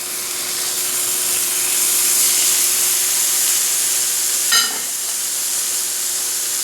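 Cajun-seasoned fish fillet laid face down in a hot pan sears with a steady, loud broadband sizzle throughout, with a brief sharper crackle near the end; no one speaks.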